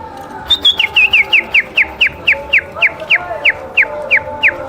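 A man whistles bird calls with his mouth, imitating Bengali birds such as the cuckoo, magpie-robin and myna: a rapid series of about fifteen short, evenly spaced rising chirps, loud and close, alone over faint background.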